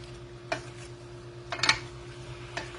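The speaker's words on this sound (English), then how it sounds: "You want to cook and stir this for 5 to 10 minutes." Faint scrapes and clinks of a spoon stirring cherry pastry filling in a pot over medium heat, a few sparse knocks spaced about a second apart over a low background hum.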